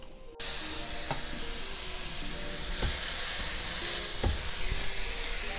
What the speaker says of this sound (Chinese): 那现在就是把萝卜丝炒一下